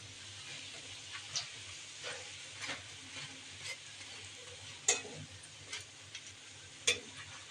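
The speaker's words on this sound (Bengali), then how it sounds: "আর এখন বেগুনি ভেজে নেব আস্তে আস্তে করে" Eggplant fritters (beguni) fry in oil in a wok with a steady close sizzle and hiss, broken by occasional sharp clicks and pops.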